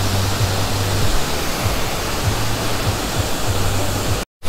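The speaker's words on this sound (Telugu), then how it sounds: "seventh largest waterfall," A large waterfall in Cherrapunji, Meghalaya, one of India's largest, roars as a steady, loud, dense rush that continues unbroken until a brief cutout near the end.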